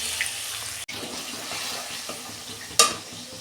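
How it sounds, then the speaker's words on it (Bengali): Spice paste added to hot oil already fried with a bay leaf, green chilli and whole cumin, giving a steady soft sizzle throughout with a sharper crackling burst near the end. "ওই তেলে আমি যে মশলাটা করে রেখেছিলাম দিয়ে দিচ্ছি"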